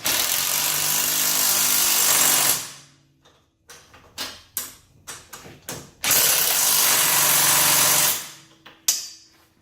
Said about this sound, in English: we're going to tighten down these back hoop cage bolts here, and it's just 15 millimeter on the back and a 15 millimeter on the front